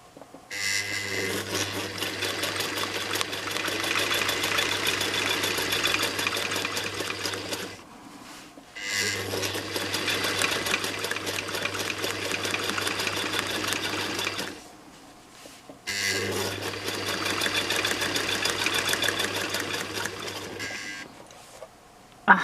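Three long, steady runs of a sewing machine with a metal base stitch a quilt up close, each run stopping briefly before the next begins, with no talk.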